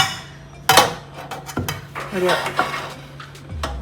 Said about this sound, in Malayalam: ഇത് വറുക്കുന്നതിന് വേണ്ടിയിട്ട് ഒരു പാൻ എടുത്ത് വെച്ചിട്ടുണ്ട്